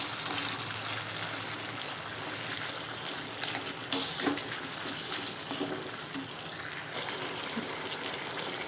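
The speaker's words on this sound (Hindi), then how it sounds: "ये देखें बस ये फ्राई हो रहा है" Mutton karahi fries steadily in a pan, highway dhaba style, with tomatoes and green chillies about to go in. A continuous sizzling hiss runs throughout, with a brief clink of stirring partway through and no talk.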